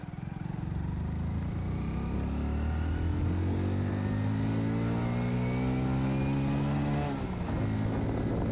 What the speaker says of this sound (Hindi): यहाँ से बाइक को दौड़ाते हैं और इसकी स्पीड देखते हैं कितनी होती है